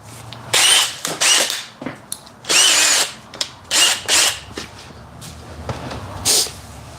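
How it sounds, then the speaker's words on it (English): Two power drills whir in repeated short bursts while driving screws into wood in a workshop where wood storage is being built, close and loud, with brief pauses and small knocks between runs. "Now we got 2 drills going."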